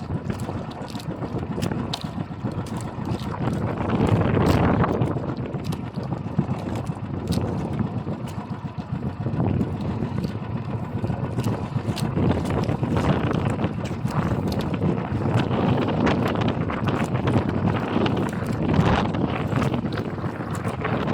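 Strong wind roars steadily across the microphone for the whole stretch, with heavy buffeting gusts and a rushing, turbulent low rumble, no voices present.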